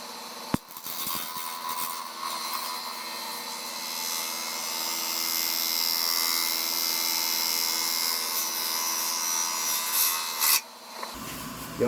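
A 5/8 bowl gouge is sharpened on a grinder, producing a steady, loud rasping hiss that runs continuously for about ten seconds, with brief knocks at the start and a drop-off near the end.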